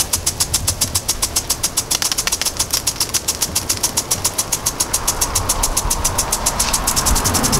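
A Rainbird brass impact sprinkler runs outdoors over a front yard, giving a steady, rapid ticking of regular clicks with a hiss of spraying water underneath, loud and close throughout.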